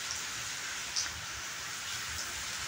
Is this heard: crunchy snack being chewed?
no